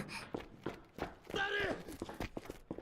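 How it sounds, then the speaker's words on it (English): Footsteps climb stairs in the Steins;Gate 0 video game, a run of soft, evenly spaced thuds, with a brief sighing tone in the middle and muffled background sound. "The sound of footsteps coming up the stairs."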